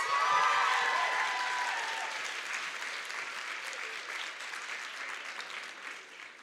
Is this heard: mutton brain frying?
no